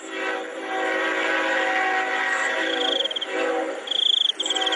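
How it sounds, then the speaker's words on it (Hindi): A train rumbles steadily with a broad roar that swells and grows louder, with high squealing tones near the end. "ट्रेन की आवाज भी अब तेज हो जाती है।"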